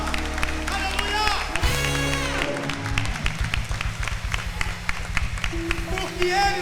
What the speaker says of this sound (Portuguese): Você pode glorificar o Senhor com as palmas